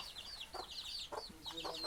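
Young white chickens cluck and chirp softly nearby, a quick series of short high calls over a faint background.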